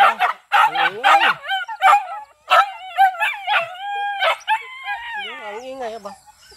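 Several excited dogs bark and howl up close, loud overlapping yelps giving way to long wavering howls that trail off toward the end, with a rooster-like crowing quality among them.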